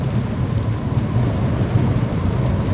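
Steady broadband wash of rain on a VW Passat B8 Variant while driving in busy traffic, a continuous low rumble of tyres and road noise with rain hiss throughout, no voices.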